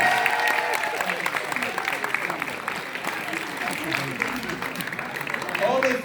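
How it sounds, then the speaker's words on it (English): Audience applause at a Universal Studios horror make-up show, a steady broadband patter of clapping and crowd noise lasting the whole stretch and swelling again at the end, with voices mixed in. "Give her a big round of applause."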